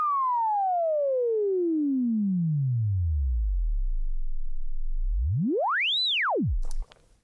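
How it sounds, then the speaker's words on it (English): A synthesized one-shot sine laser effect: a loud pure tone sweeps steadily downward into a low rumble, then swoops sharply up and back down in a single arc before cutting off, with no voices. "We'll just call them one-shot sine lasers or something."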